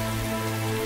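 Steady rain pours down outside a shelter, a constant dense patter filling the short moment with no voices over it.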